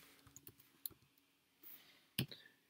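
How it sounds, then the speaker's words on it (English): A URL is typed on a computer keyboard as quiet, scattered keystroke clicks in a still room, a few light taps followed by one sharper, louder click near the end. "start typing in a URL."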